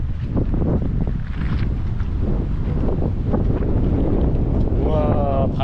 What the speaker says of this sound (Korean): 우와, 바람이 다 날라가요.